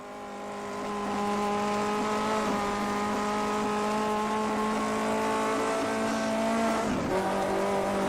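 A 1958 Formula 1 race car at Spa in a historic racing game, engine rising to a loud, steady high-pitched drone as it holds speed, then briefly dipping and recovering as the car shifts near the end.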